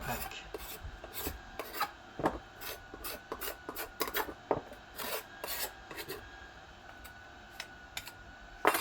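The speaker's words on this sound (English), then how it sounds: "you can see me just going away with the scraper and yeah, really going at it," A hand scraper rasps in short, uneven strokes along the wooden handle of a vintage Pardoe & Co brickwork creasing hammer, the close scratchy scrapes coming in quick bursts with small gaps between.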